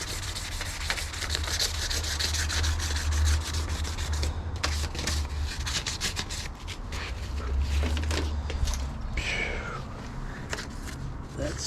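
Someone sands the engine bay of a Nissan 350Z to prep it for paint, a steady close scratching and rubbing with a low hum beneath and some faint voices.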